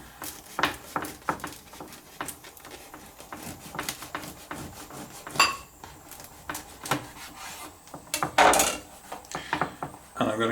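A knife saws through a loaf of bread on a board with a run of scraping, crunchy strokes and sharp knocks against the board, close up with no talk.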